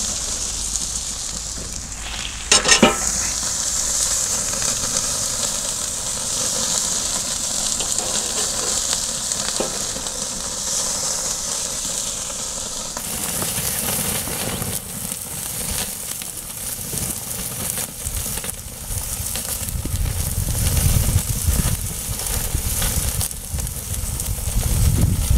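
Wagyu tomahawk steak searing in a hot pan, giving a steady loud sizzle and frying hiss throughout, with a brief clatter early and a rougher, louder crackle in the later part.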